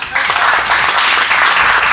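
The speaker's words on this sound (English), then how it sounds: "Let us put our hands together to appreciate her." Audience applause at a pastor's graduation party, a loud, dense crowd of clapping hands that swells in right away and holds steady throughout.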